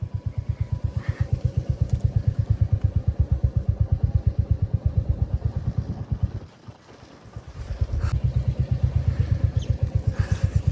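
A motorbike climbs mountain roads, its engine chugging in a steady, loud, rapid pulse close by, briefly dropping away for about a second before the throbbing returns.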